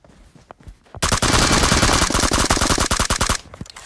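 Loud, sustained automatic gunfire in PUBG on the Livik map, a rapid burst of close shots running for over two seconds after a few quieter pops and footsteps, then stopping abruptly.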